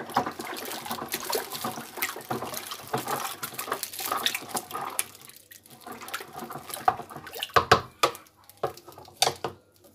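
Fabric softener emptied from a bag into water while stirring for a large homemade batch, giving irregular wet splashing and pouring sounds, close and moderately loud, with brief louder sloshes toward the end.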